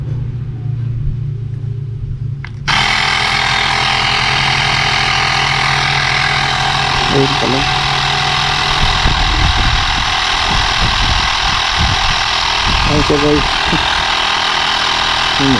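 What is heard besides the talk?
portable tire inflator pumping a motorcycle tire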